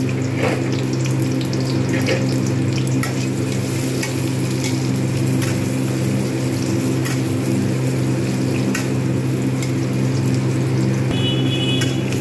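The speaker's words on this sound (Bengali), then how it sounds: "সয়াবিন অয়েল দিয়ে দিয়েছি গরম হয়ে গেছে আর একটু এর মধ্যে পেঁয়াজগুলো ভালোভাবে ভেজে নেব" Onions frying in hot soybean oil in a pan make a continuous, even sizzle throughout, close and fairly loud, with a few light scrapes and ticks over it.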